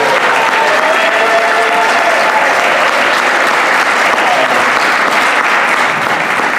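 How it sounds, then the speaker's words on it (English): A concert audience gives choir soloists and duet singers a loud, sustained round of applause, thick steady clapping with some crowd noise that fills the whole stretch without pause. "give them a wild round of applause"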